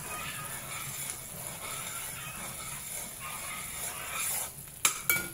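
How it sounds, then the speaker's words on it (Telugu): Ghee going into sugar syrup in a pan while it is stirred, a soft sizzle and quiet scraping, then a couple of sharp clinks of a utensil against the pan near the end. "ఇలాగా నెయ్యి వేస్తున్నాను."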